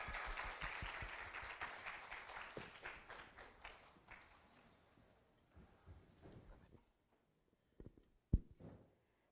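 An audience at a TEDx talk applauds steadily, then the clapping thins out and fades, leaving a few scattered claps and a final sharp knock.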